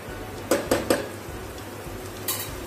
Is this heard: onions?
yes